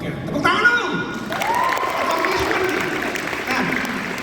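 At a large youth conference, an audience claps and cheers while voices shout and chatter in the crowd, with a lively, sustained wash of applause under prominent vocal noise.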